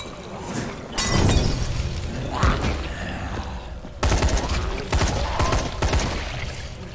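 A Molotov cocktail smashes and bursts into flames in the zombie game Dying Light, with sharp shattering crashes and bursts of impact noise coming in several loud, close hits over a crackling, roaring background.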